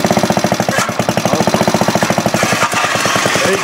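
An antique moto-mower engine runs close and loud with a rapid, even chugging beat that stays steady throughout, with no one speaking.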